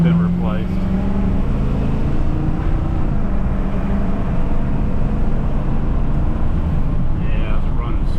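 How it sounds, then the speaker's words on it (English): 2003 Ford F250 pickup engine idling smoothly after a MAP sensor replacement, a steady low rumble held throughout with someone talking over it. "the truck is really running good now that that map sensor's been replaced"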